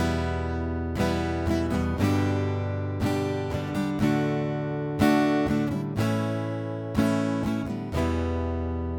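A rhythm guitar pattern of ringing strummed chords repeats in regular bars, each ending in a quick cluster of extra strums, played close and clean without any voices.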